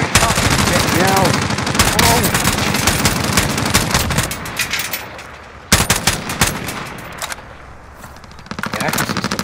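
Rapid AK rifle fire from Call of Duty Warzone crackles in loud, dense bursts, with a few sharp isolated shots later on, while people talk over the gunfire throughout.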